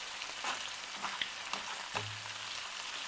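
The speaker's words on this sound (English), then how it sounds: "Just turn it over like that so it's nice and evenly brown, and as you can see it's browning up nicely" Beef mince browning in a frying pan for a beef and ale stew, a quiet continuous sizzle with a few soft scrapes as the meat is turned over, no voices.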